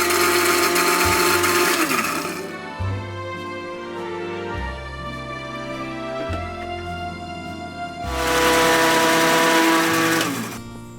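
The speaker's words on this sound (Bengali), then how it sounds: "প্রায় 8-10 মিনিট ব্লেন্ড করে নেওয়ার পর হোয়াইট সস তৈরি হয়ে গিয়েছে।" A kitchen blender whirs at high speed, whipping egg and soybean oil into a white sauce for burgers, loud at the start and again near the end with a lower churning motor drone in between and no talking.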